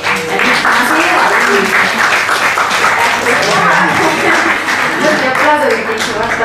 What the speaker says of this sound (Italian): vorrei fare un applauso